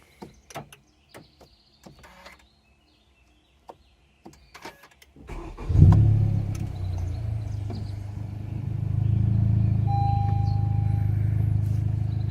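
A Honda Civic Type R FK8 starts with a sharp crank and catch after a few faint clicks, then settles into a loud, steady idle that swells slightly as it revs.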